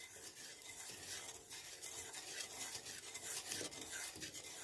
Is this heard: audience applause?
no